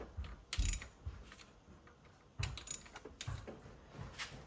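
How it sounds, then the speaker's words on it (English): Several short ratcheting clicks and metallic clatters come in separate bursts as a ratchet loosens three camshaft bolts on a GM LS V8 engine inside a truck, heard close up with no talk. "So I'm just going to loosen these 3 bolts."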